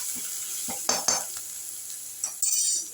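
Green chillies are sautéed in a pan, with a close crackling sizzle broken by spatula scrapes and metallic clanks against the pan at irregular moments, with no speech.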